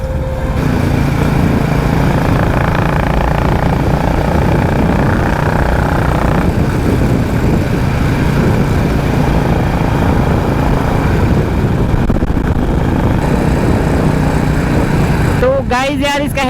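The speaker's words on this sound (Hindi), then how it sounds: "आप लोग बस एग्जॉस्ट साउंड एंजॉय करो और राइड एंजॉय करो" Exhaust of a Royal Enfield Classic 350 motorcycle on the move, a continuous thumping drone heard up close throughout, with someone talking over it.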